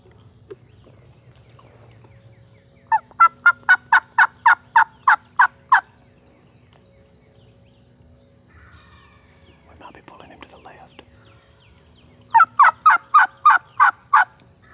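Wild turkey gobblers in a Georgia clear cut during spring turkey hunting: two rapid bursts of about eight to ten loud yelps each, separated by a pause with faint whispering and a steady insect drone in the background.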